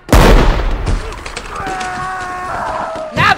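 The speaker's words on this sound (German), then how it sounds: "Hey, verdammt guter Schuss!" A loud rifle gunshot rings out with a booming echo in a western radio play, followed by a lingering ring and a voice calling out at the end.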